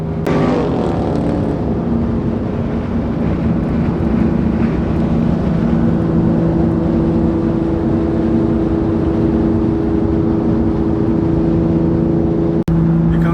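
A loud, steady engine roar heard from inside a car making speed bursts on an open road, droning continuously with little change in pitch.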